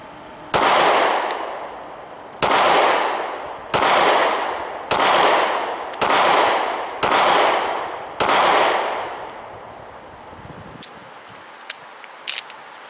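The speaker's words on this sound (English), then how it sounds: "We're shooting the Hornady Critical Duty." Six sharp gunshots from a compact 9mm handgun firing Hornady Critical Duty 135 +P rounds, spaced about a second and a half apart, each loud and close with a ringing decay, followed by faint clinks.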